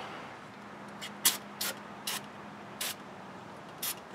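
Brake cleaner spray hitting front brake parts on a two-wheel-drive Ford F-350 dually, heard as several short sharp hissing bursts spaced apart over a quiet background hum, close by.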